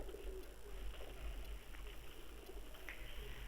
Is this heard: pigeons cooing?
yes